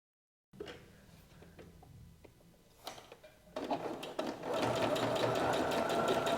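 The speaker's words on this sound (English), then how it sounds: "And then I'm going to sew from here to over here." A sewing machine stitching the hem of a maxi dress, starting with soft clicks and slow stitching, then running into a steady fast whir that grows louder.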